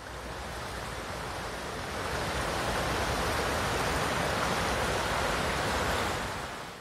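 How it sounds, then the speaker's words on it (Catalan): The Fluvià river in the Garrotxa, swollen after heavy rain, rushes past in a steady, loud, unbroken roar of churning water that holds evenly throughout, with no voices. "mostren com de ple baixava ahir a la tarda el riu Fluvià al seu pas per la Garrotxa"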